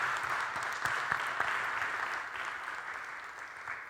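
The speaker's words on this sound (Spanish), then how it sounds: "Dale un fuerte aplauso al Señor por esa sangre." A church congregation claps in sustained, moderately distant applause, a dense patter of hands that slowly tapers off without any talk.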